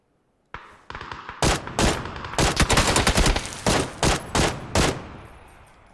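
Gunfire in the video game PUBG, a string of about ten loud, sharp shots in an irregular rhythm, some close together and some spaced apart, starting after a short silence and ending in a fading tail.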